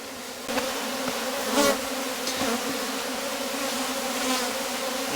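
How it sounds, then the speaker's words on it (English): Honey bees buzzing in and around a hive while a beekeeper builds an artificial swarm, a close, steady droning hum with slight swells and no talking. "I'm going to put in lots and lots and lots of bees"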